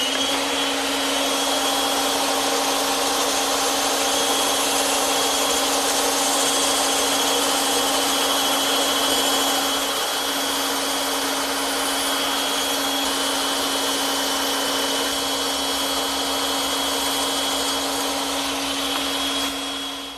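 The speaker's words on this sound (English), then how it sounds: "And now I'm ready to cut those out using my bandsaw." A bandsaw cuts table legs out of wood stock, its steady loud motor drone and blade whine running continuously throughout with a strong constant hum and no talking.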